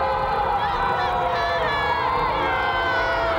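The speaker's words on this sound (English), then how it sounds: "Crowd getting very vocal behind us." Loud crowd noise fills a gym during a 1997 Emmanuel vs. Salem State women's college basketball game, a dense steady roar of cheering and shouting voices that continues for the whole stretch.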